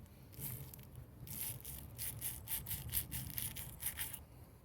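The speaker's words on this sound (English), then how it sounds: "a bottle brush was useful for getting into the bolt holes" A bottle brush scrubs the wheel bolt holes on a BMW E46, giving close, quiet, rapid back-and-forth bristle strokes with a rhythmic scratchy rubbing that repeats through the clip.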